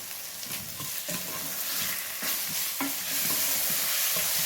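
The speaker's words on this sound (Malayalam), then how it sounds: "ഈ പൊട്ടറ്റോയും ഇതിലേക്ക് ഇട്ടിട്ട് പാകത്തിനുള്ള ഉപ്പും കൂട്ടി ഇത് നന്നായിട്ടൊന്ന് ഇളക്കി കൊടുക്കാം" Cut potatoes and salt frying in a pan for a pressure cooker egg biryani, stirred with a spoon: a steady close sizzle with repeated scraping strokes throughout.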